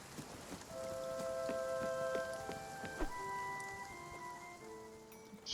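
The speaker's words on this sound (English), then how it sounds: "It's still raining." Steady rain falling in the video game Spiritfarer, an even wash of patter with scattered drop ticks, layered under soft sustained musical tones, no voices.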